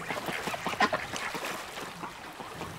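A flock of ducks landing, quacking and honking faintly amid a soft, steady wash of background noise, with a few brief louder calls.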